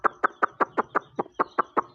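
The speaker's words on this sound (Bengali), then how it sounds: "মুরগিগুলা" Chickens brooded under a heat bulb give about ten rapid, evenly spaced clucks. The calls are close and clear, with no talk.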